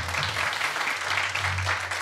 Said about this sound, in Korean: 다시 한번 큰 격려의 박수 부탁을 드립니다